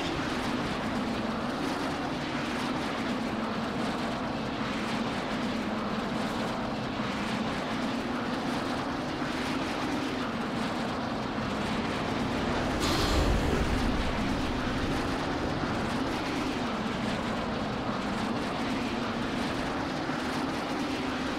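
Fighter aircraft roar overhead in the Saints Row The Third video game, a steady, loud engine drone that holds throughout, with a brief swell of a passing jet near the middle.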